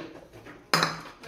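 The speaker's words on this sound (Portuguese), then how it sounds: "Enquanto isso, o papai e o neném vai lavar a louça" A dish or piece of cutlery strikes sharply against another at a home kitchen sink while dishes are washed, one bright clatter ringing out over a low, quiet background.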